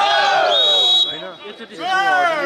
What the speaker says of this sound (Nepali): सम्पूर्ण दर्शकहरू राम्रो हुटिङ